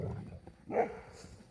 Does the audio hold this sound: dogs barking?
yes